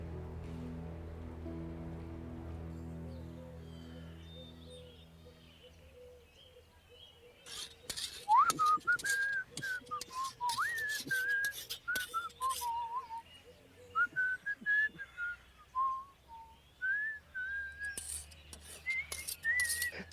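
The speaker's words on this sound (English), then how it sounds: "I could hear you whistling from a distance." A person whistles a wandering melody in short bright phrases, fairly close, after a stretch of low rumbling background, with soft clinks and rustles around.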